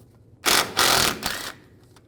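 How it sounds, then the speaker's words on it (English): A 1/2-inch socket wrench loosens the front shock absorber bolts on a 1964-67 Pontiac GTO, giving a close burst of rapid ratcheting clicks about a second long that eases into a softer, shorter run. "I'm going to loosen these bolts up."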